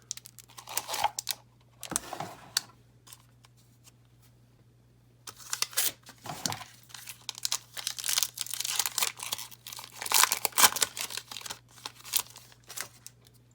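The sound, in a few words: tearing open a Magic the Gathering booster pack wrapper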